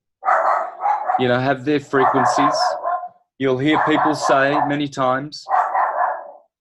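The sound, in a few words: dog barking in the background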